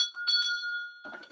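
A hand bell is rung once, its bright metallic tone ringing out clearly and sustaining before fading, followed by a short rustle of handling noise at the end.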